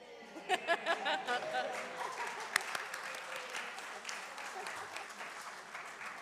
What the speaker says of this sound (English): I hope you feel very loved from all that applause.